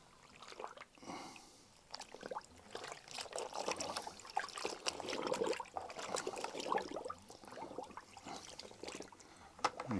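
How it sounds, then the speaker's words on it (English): A 40-year-old car seat cover is dunked and sloshed in a bucket of cold water, with soft trickling and splashing that comes and goes, close and faint. "So I'm just going to dunk this cover in a bucket of cold water."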